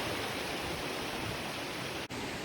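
Steady broadband rush of a creek flowing past the Rapidan Camp area in Shenandoah National Park, a constant even wash of water heard close and alone, with a brief dip near the end.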